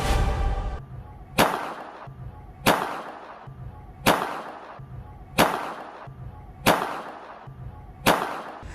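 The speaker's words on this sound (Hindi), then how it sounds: "माही चौधरी ने नियमों को ताक पर रखकर गोली चलाई है।" Gunshots fired by actress Mahi Chaudhary, six sharp loud cracks in a steady rhythm about every 1.3 seconds, each with a short ringing decay over a low hum, with no talk.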